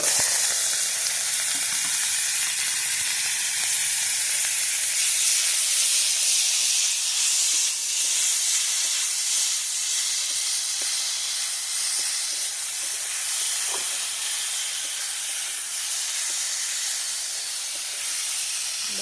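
Chopped tomatoes and green chillies hit a hot pan in a village-style kitchen, setting off a loud, continuous hissing sizzle with steam that holds steady and eases slightly over time, with occasional soft stirring and no talk.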